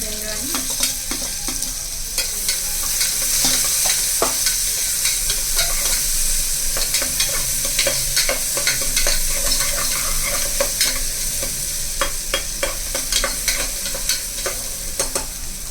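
Vegetables with garlic and curry leaves sauté in a hot pan, a continuous close sizzle broken by frequent scraping stirs of a spatula, steady and fairly loud throughout, with no voices.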